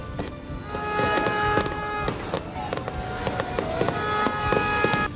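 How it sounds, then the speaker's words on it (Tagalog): A New Year's countdown fireworks display at Boracay bursts repeatedly in quick, irregular pops and crackles over a continuous crowd murmur, moderately distant. "nadululungan nagbanaag ang kahawaan sang matahom kag madinuagon nga fireworks display"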